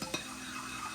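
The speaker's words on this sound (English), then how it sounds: "We're gonna add 2 teaspoons of the lemon juice to this. And give it a stir." Lemon juice is stirred into a glaze for apricot-glazed pork medallions, with a brief clink of a utensil against the bowl and then a soft, steady stir while a pan sizzles faintly nearby.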